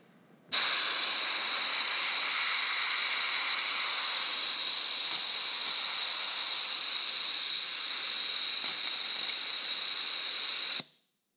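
Water and oily gunk blast out of a drained air compressor tank in a steady, loud hiss of spraying air that runs unbroken for about ten seconds before cutting off abruptly.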